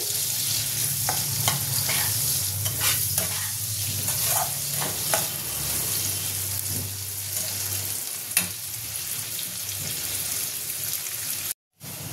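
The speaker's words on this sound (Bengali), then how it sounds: "দেখো পেঁয়াজটা আমার ভাজা হয়ে গেছে, লাল করে ভেজে নিয়েছি।" Onions fry in a pan, browning to a deep red, with a loud, steady sizzle and repeated clinks and scrapes of stirring, and a brief dropout near the end; no one speaks.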